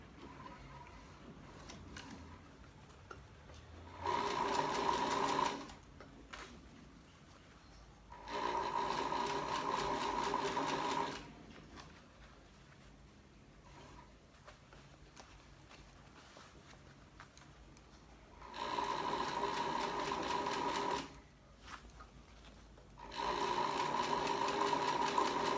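A domestic sewing machine sews a wide gathering stitch, running in several steady, close bursts of whirring with quiet pauses between them.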